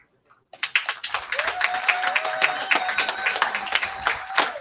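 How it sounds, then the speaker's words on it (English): A school assembly crowd gives the steering committee a sustained round of applause, steady mixed clapping at moderate distance with a faint tonal hum running underneath. "we can give them a big round of applause"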